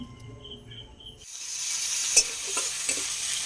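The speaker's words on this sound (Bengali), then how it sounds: "এই তেলেই মশলাগুলো দিয়ে দিলাম।" Spices hit hot oil for a fish pickle and start sizzling, a sudden bright crackling hiss that stays steady with a few small pops and stirring scrapes, close and continuous.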